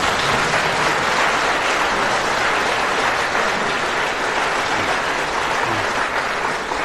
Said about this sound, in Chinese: 从观众的掌声中，你可以看得出来，观众是不是参与了第三度创作？